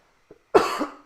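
A person clears their throat during a vinyl-collection livestream, with a faint short sound first, then a loud close rasping burst and a second abrupt one at the end.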